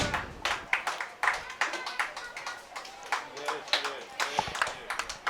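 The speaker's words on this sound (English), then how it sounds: "let's not lose out the energy in our applause" An audience at the closing ceremony of a children's art and craft workshop applauds in a fairly steady run of claps, with speech over the top.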